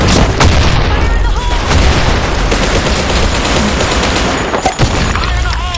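Grenade explosions and rapid gunfire in the online shooter Blackshot form a dense, continuous wall of booms and shots that stays loud throughout, with no pause.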